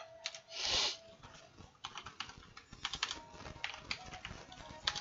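Computer keyboard typing while entering Pokémon stats into a calculator: steady clusters of close key taps with a brief louder burst near the start, no talking.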